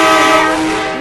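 Loud sustained train horn blast from a train in the Indian Bikes Driving 3D mobile game, a steady harmonic tone lasting about a second and fading slightly at the end, with no talking.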